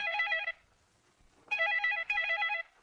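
Telephone bell ringing in repeated bursts, one short ring followed by a pause and then two longer rings, clear and close with no voices.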